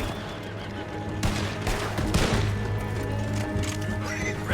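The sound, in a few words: horses neighing in video game Red Dead Redemption 2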